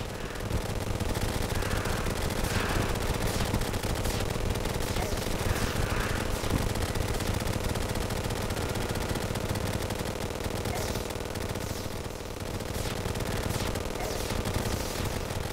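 Rapid, continuous automatic gunfire from the Candy Corn Rifle in the video game Terraria, a dense loud rattle of shots running throughout with game effects layered over it.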